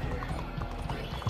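Horse hooves clip-clop in a video game at a quick, steady gait, the hoofbeats continuous and mid-distance within a dense game soundscape.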